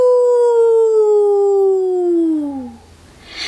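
A person imitates a wolf, a single long, clear howl, loud and close, sliding slowly downward in pitch before trailing off into quiet.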